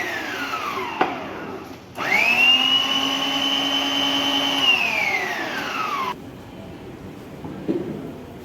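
A Preethi Zodiac food processor chopping onion, its motor starting with a click, whining at a steady high pitch for about four seconds with a slight rise and fall, then cutting off abruptly into quiet kitchen background.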